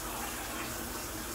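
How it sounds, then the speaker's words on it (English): A hot shower is left running in a steamy bathroom, its spray making a steady, unbroken hiss of falling water throughout, with no voices. "I just finished my shower, so I left the shower on to be like a sauna."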